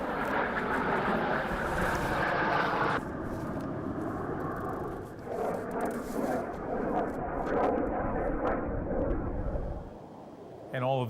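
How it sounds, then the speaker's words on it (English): Canadian Forces Snowbirds jets fly over parts of New Brunswick and Nova Scotia, a loud roaring rush that swells and fades, with crowd noise and voices underneath. "The Canadian Forces snowbirds flew over parts of New Brunswick and Nova Scotia today"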